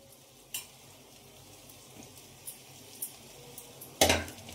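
Sago pearls stir-fried in a pan give a soft steady sizzle, with occasional spoon clinks against the metal and a louder scrape near the end; no one talks.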